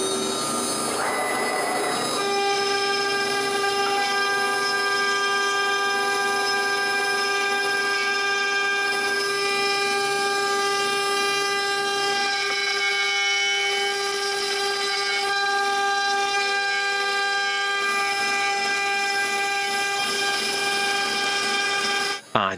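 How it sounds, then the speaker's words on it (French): A CNC router carves an outer V-groove into a wooden kitchen recycling bin, giving a loud, steady, high-pitched whine with strong sustained tones that holds almost unbroken for over twenty seconds, with no talking. "En 10 minutes, la découpe extérieure en V est terminée."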